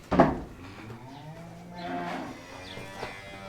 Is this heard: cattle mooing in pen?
yes